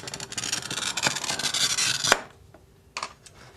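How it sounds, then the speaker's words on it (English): Painted glass being scored into strips for fused glass work, with the cut made on the unpainted back side. A steady, close gritty rasp runs for about two seconds and stops abruptly, followed by quiet and a few brief light ticks. "I will cut this piece up into strips"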